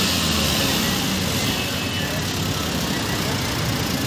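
A 2022 Maruti Suzuki WagonR CNG engine idles nearby with a loud, steady mechanical rumble that holds constant throughout.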